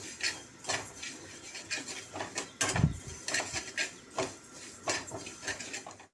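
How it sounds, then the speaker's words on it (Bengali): Mung dal dry roasting in a pan gives a steady run of light scraping and rattling strokes as a utensil stirs the lentils, with a sharper metallic knock partway through and no talking. "মুগ ডালটা হালকা ভেজে নেব"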